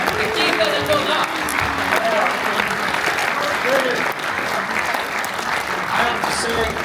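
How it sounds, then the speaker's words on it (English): A convention audience at a sci-fi event in Malmö gives Peter Weller loud, sustained applause, dense continuous clapping from a crowd with voices faintly mixed in. "A big round of applause for Peter Weller."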